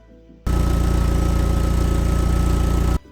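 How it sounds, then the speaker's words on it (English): An Audi TT Quattro engine starts up and runs at a steady, loud idle for about two and a half seconds, then cuts off abruptly; close, with no voices. "once it started, it ran really nice"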